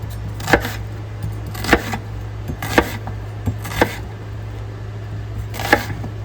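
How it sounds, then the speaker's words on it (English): An onion chopped into large pieces on a cutting board for a chicken curry, five distinct knife thuds at a slow, slightly uneven pace over a constant low background hum. "we want to get an onion and chop it up"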